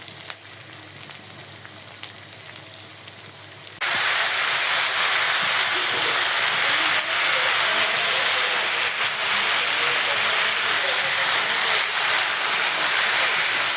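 Sweet pumpkin pieces frying in oil with bay leaf in a hot pan, a steady loud sizzle that jumps up sharply after a quieter opening and then holds evenly to the end.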